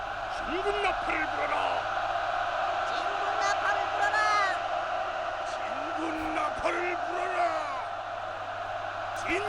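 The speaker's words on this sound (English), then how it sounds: "everybody's cheering, and then there's a couple of guys like making individual comments" A crowd in the strategy game Gwanggaeto Daewang: The Forgotten Land cheers in a dense, steady roar, with single men whooping and bellowing over it, and a player talks on top of the game sound.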